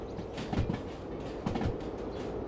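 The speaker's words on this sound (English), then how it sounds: "Train naturally slowing down. Here's our DE6." A DE6 diesel locomotive in the Derail Valley train game rolls along while slowing, giving a low rumble with soft rhythmic clanks from the wheels and cars.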